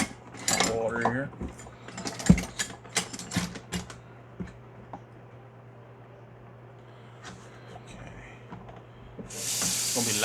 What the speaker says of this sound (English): let me fill this back up with some water here.